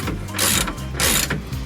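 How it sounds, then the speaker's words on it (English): A ratchet works a bolt on a chrome-dressed 1971 VW Karmann Ghia engine, giving two quick bursts of rapid clicking with brief pauses between, close up and fairly loud. "be careful with the ratchet"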